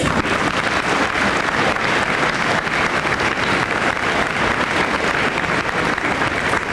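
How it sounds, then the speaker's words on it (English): Sustained applause from an audience at a high school honor awards assembly, a dense, even wash of many hands clapping at once, loud and unbroken with no speech over it. "let's give all our honorees today a round of applause"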